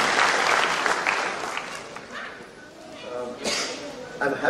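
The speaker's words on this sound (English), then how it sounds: "Can we have a big round of applause for him?" Applause from an audience in a Kolkata auditorium at an awards meeting, starting fairly loud and then tapering off, with voices mixed in and brief renewed bursts toward the end.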